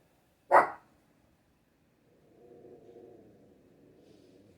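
A single loud dog bark rings out close by, then a low, faint rumbling hum fills the rest of the quiet clip.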